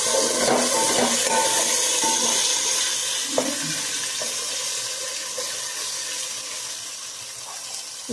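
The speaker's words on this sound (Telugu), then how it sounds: "ఇప్పుడైతే వాటర్ పోస్తున్నాను ఇందులో" Water pours into a pot of rice in a gushing stream, loud at first and then slowly easing to a softer trickle, close by with no voices.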